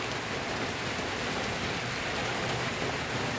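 Steady rain falls on a home vegetable garden during a storm, a dense, continuous hiss of drops with no pauses.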